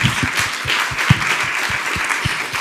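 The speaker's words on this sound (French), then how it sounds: "toute la salle ici s'applaudisse pour l'endurance dont nous faisons preuve" A room audience at a mentoring conference applauding, a dense, steady round of many hands clapping close by, with no voices over it.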